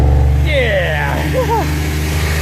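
A car engine revving after an AMSOIL Power Foam engine cleaning, a steady near rumble with a rising rev while people shout and whoop over it.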